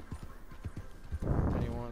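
A horse in the video game Red Dead Online clip-clops along in a quick rhythm of hoofbeats, then lets out a loud whinny, with people talking over it.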